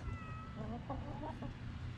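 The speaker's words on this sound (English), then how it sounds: "You can hear the kitty cats." Cats in a West Texas chicken yard give a few short meows over steady outdoor background noise, fairly faint and at a moderate distance.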